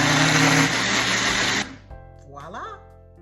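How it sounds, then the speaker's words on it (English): A blender whirs loudly as it chops cantaloupe in its cup, then cuts off abruptly, and a voice speaks afterward. "Now, we're going to attach our blender blade to our blender cup."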